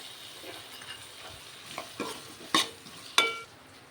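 Onion and ginger garlic paste fry in a pan under a low sizzle, with a few sharp scrapes and clinks of a spoon stirring against the metal, close and mostly quiet.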